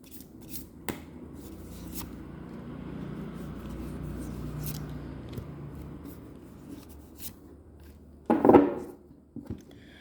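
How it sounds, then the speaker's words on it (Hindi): Tarot cards shuffled by hand in one long continuous riffle of soft paper friction, capped by a sharper burst of card slaps near the end. "थोड़ा सा मैं शफल कर लूँ।"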